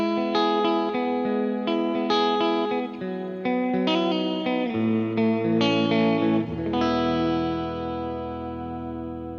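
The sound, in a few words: electric guitar through echo tank pedal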